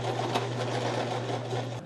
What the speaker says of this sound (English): You ever sew thick fabrics and you just can't get it going in the beginning?